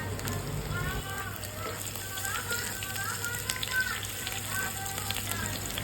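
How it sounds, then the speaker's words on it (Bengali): Chopped ginger and slit green chillies sizzle in hot oil in a pan for khichuri, a steady close-up crackle that runs throughout with a faint voice over it. "আবার কিছুক্ষণ নেড়ে চেড়ে ভেজে নিলাম।"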